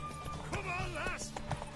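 Horse galloping during a race in the video game The Witcher 3, quick clip-clopping hoofbeats with a neigh, faint and mixed under a voice.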